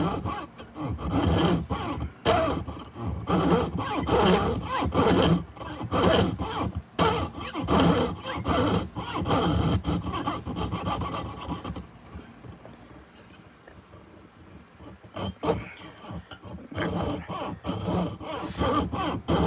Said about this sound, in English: So let me cut this piece.